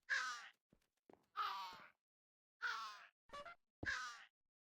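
A pet bird in a cave-exploring video game lets out four harsh, croaking cries spaced about a second apart, each a short raspy caw-like squawk, with brief softer chirps between them and no talk.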